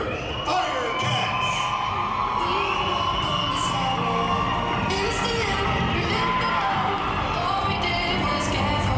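Loud, close crowd at an all-star cheerleading event cheering and whooping for a youth cheer team, with sustained shouting, high-pitched yells and screams filling the whole stretch.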